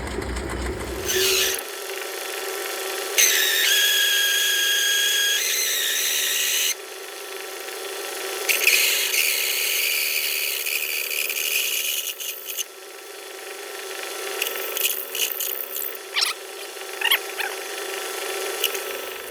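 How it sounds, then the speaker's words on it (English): A power drill with a large bit whines in several bursts of a few seconds each, grinding through a metal part with brief pauses between runs, no talking. "after we ran the big drill bit through it"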